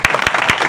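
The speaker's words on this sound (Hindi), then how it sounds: "ताली बजा दो।" A church congregation claps in unison during a Hindi-language sermon by Pastor Kishor at a tribal gathering. Four sharp, evenly spaced claps ring out in a steady rhythm over a busy room tone.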